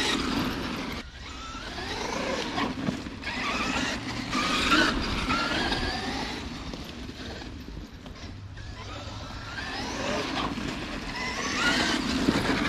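Traxxas X-Maxx RC truck on Badlands tires drives nearby with a steady mechanical whine and rumble, its loudness swelling and easing as it runs and turns, with no talking.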